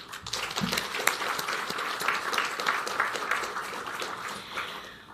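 An audience at an awards and commendation ceremony applauds to thank a Minister, a sustained, dense round of many hands clapping at steady strength, with a brief voice at the start.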